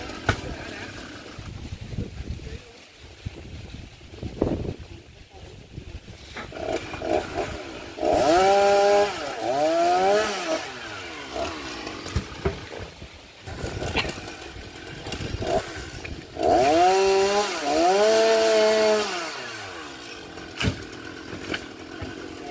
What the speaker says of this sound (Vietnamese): Bây giờ sẽ cưa từng lóng để thảy xuống nha.